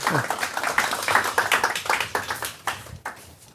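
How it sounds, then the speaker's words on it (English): Scattered clapping from a tech-talk audience at a hackathon, individual claps distinct and fading toward the end, with a voice speaking alongside. "Again, just a big round of applause to Jakob."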